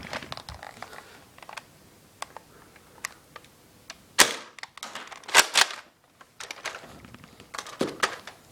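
A modified Big Bad Bow dart blaster is cocked and fired with elite darts, heard as sharp close snaps and clacks, a few louder firing pops among lighter plastic clicks, with no talking.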